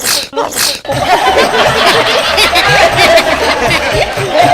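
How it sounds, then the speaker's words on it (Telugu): A single loud sneeze bursts out on a comedy stage show, followed by a dense stretch of laughter and chuckling from several people. "నువ్వు ఇంకొంచెం గట్టిగా తుమ్మితే ఎగిరెళ్ళేవాడిని"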